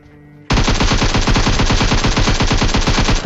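Rapid automatic gunfire in PUBG Mobile during a close-range rush on an enemy, loud sustained bursts with a steady stuttering rhythm starting after a brief quiet moment.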